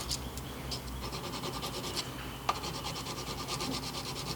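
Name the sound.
polishing knife contact surfaces on a slipjoint folder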